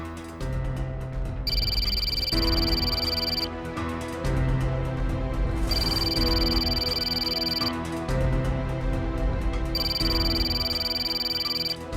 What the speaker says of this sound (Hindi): सम्राट जी प्लीज हमारा फोन उठा लीजिए एक बार